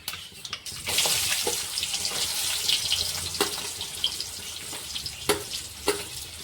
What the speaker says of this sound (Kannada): ಒಂದು ಸ್ವಲ್ಪ ಈರುಳ್ಳಿ ಕೆಂಪಗಾಗತ್ತನ ಎಣ್ಣೆಗೆ ಫ್ರೈ ಮಾಡ್ಕೊಳಮ್ರಿ